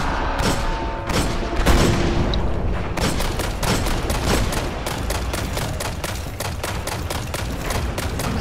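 Rapid gunfire from the Destiny video game, a dense, loud stream of shots with booming impacts; after about three seconds it settles into a steady, evenly spaced burst of repeated firing that runs to the end.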